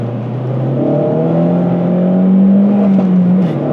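An Opel Corsa OPC hot hatch engine drones steadily, rising in pitch as it revs, with faint exhaust crackles and pops near the end as the revs drop off; loud and close, no talking.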